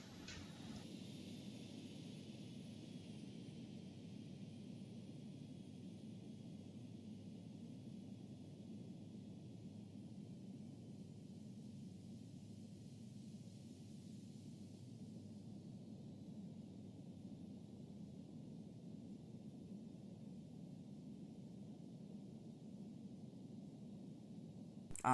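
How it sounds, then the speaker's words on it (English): A Boeing 777-9X airliner landing in a flight simulator game, heard as a faint, steady rumbling roar of engines and airflow that holds evenly throughout, with no speech. "this is my landing on the Boeing 777-9X"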